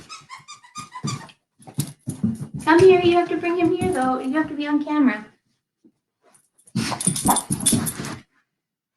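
A dog growls and whimpers in excited play over a toy duck, the growl rising into a sustained, strained rumble in the middle, with a child and an adult talking before and after.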